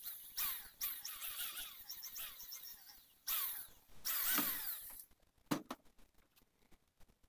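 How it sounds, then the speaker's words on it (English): A corded power drill whirs in several bursts while drilling through metal, rising and falling in pitch as it bites, then stops, leaving a few faint clicks. "Now let's use a corded drill and drill it out."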